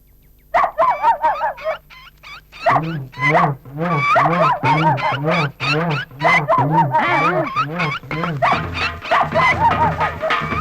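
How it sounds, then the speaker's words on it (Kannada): A dog barks over and over in a fast, steady rhythm, loud and close, after a brief burst of sound at the start. "ಎಲ್ಲಿ ನಾಯಿ ಬೊಗಳೋ ಶಬ್ದ ಬರ್ತದೆ"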